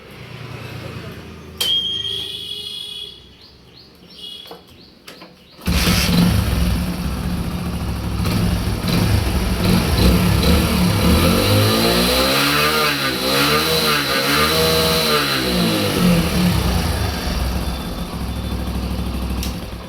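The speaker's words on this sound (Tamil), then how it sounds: "இப்போ இந்த வண்டியை வந்து நம்ம வந்து ஸ்டார்ட் பண்ணி பார்ப்போம்" A Hero Splendor Plus motorcycle engine, under repair, cranks and fires after a few seconds of quiet handling noise. It then runs steadily with rising and falling revs, loud and close, with some talk over the early part.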